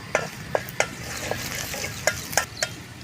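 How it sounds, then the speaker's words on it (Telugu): Sliced potatoes are stirred and fried in a pan with salt and turmeric. A spoon scrapes and taps a few times at an uneven rhythm over a soft, steady sizzle. "ఇప్పుడైతే ఆలుగడ్డ వేసేస్తుందండి అందులో."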